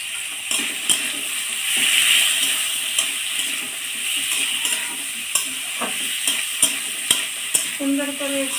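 Vegetables for labra are stirred in a frying pan, a continuous sizzle broken by repeated scraping and knocking strokes of the spoon against the pan, close and fairly loud.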